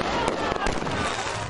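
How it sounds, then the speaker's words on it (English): Fireworks go off in a neighborhood, a short burst of crackling, popping blasts heard over a broad, noisy background. "Many people say they're noticing more and more fireworks being set off over the past few weeks."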